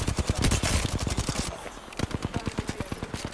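A Spitfire light machine gun fires in Apex Legends, a loud, steady stream of rapid shots with a brief shift midway, then continuing in an even rhythm.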